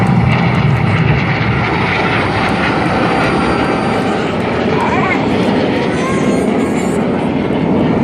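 Red Arrows jet aircraft displaying at the Southport Airshow 2014 produce a loud, steady, broadband engine roar that stays constant throughout, with a public-address commentator talking over it.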